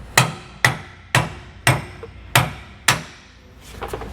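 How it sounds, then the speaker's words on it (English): Hammer strikes driving out a leaf-spring shackle bolt during a MORryde tandem axle suspension upgrade on a 2018 Shasta trailer: six sharp, evenly spaced metallic blows, close and loud, followed by faint clatter. "We're going to have to hammer it out again."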